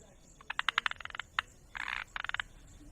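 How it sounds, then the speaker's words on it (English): A Malabar gliding frog calling: a rapid series of sharp clicking croaks, then a buzzy rattling burst and another quick run of clicks, close and clear over a faint background. "the Malabar gliding frog can be recognized by its unique call."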